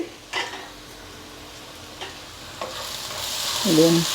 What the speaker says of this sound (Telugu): వేగిపోతుంది కొంచెం బ్రౌన్ కలర్ వస్తేనే బాగుంటుంది